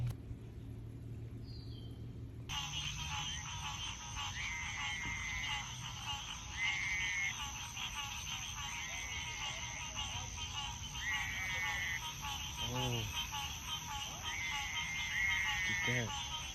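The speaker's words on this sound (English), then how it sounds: "So that right there is a Pope's gray tree frog. And obviously it's a male because it's croaking or calling for the female" A male Pope's gray tree frog calls up close with a series of short, regular trilling croaks, repeating about every two seconds over faint insect hum, with a brief voice at the start.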